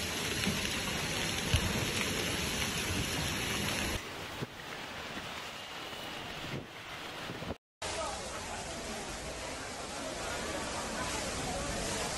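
Torrential rain from an intense storm sweeping across California, a dense, steady roar of heavy rain and wind, loud and continuous, with a brief cut partway through.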